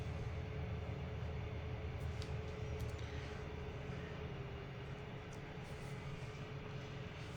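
A long freight train of 42 cars pulls out in the Trainz 2022 railway simulator, giving a steady low engine rumble and rolling drone with a faint sustained tone, continuous and even throughout without speech.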